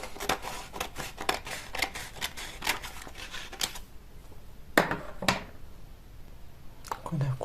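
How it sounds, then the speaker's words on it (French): Scissors snip through paper for an origami gift box in a quick run of crisp, rhythmic cuts, then a short pause and a few more separate snips. "On a coupé le papier,"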